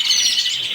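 Caged goldfinches and canaries in an aviary twitter nearby, a bright, continuous run of high chirps and trills with no voices over it.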